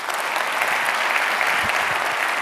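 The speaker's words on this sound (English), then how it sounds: "Mayor Eric Johnson, let's give him a round of applause." Downtown audience applause for the mayor comes as a short, dense burst of many hands clapping, steady and fairly loud from start to finish.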